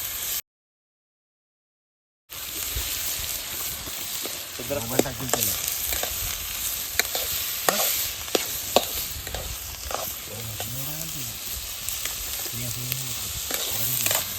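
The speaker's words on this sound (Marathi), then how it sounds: "कांदा आपण व्यवस्थित फ्राय करून घेऊया याला" Onions fry in hot oil in a pan over a wood-fired clay stove on a village farm, giving a continuous sizzle broken by repeated scraping stirs, after a brief silent gap at the start.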